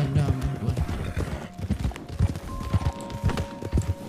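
Horse hooves clip-clop in a steady rhythm in Red Dead Redemption 2, close and fairly loud, with a brief whinny near the start and someone talking over the hoofbeats.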